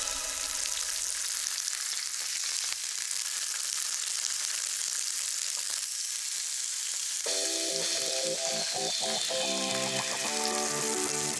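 Sage leaves frying in hot oil, a constant bright hissing sizzle with scattered crackles that grows busier and more popping in the last few seconds, close up and without speech.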